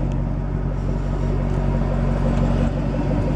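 A 2012 Ford Shelby GT500 with a supercharged V8 idles at a dealership, giving a steady low rumble close by, with no voices.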